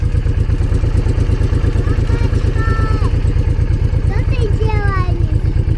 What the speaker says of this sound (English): I just want to hear if the engine is working fine